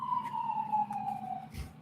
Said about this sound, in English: Little fire engine action.